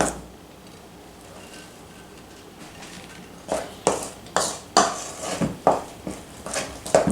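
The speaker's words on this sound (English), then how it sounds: "I'm going to go ahead and start mixing the peanut butter and the powdered sugar." Peanut butter and powdered sugar being mixed in a bowl, a quiet start followed by a run of rhythmic scraping and knocking strokes of a utensil against the bowl, close and growing louder, no voices.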